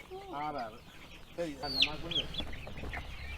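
Chickens and chicks cluck and chirp close by in Jaffna, Sri Lanka, mixed with a voice talking over them and some background noise.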